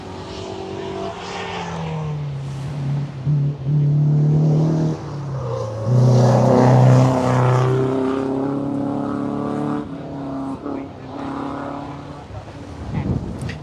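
Volvo Amazon rally car on a gravel stage of the 2025 Oregon Trail Rally at Maryhill, its engine rising and roaring past close by, then fading under wind noise, with spectators talking and cheering.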